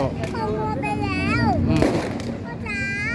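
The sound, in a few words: firecrackers going off at Loy Krathong festival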